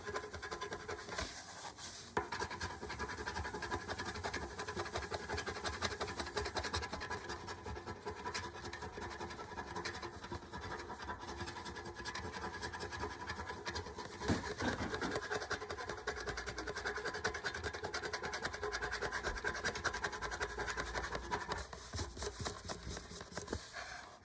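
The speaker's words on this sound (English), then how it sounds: "So that is the scratching off of the Phantom of the Opera." Steady scratching and rubbing as the coating is scraped off a Phantom of the Opera scratch-off poster, a dense continuous rasp running throughout at close range, with no talking.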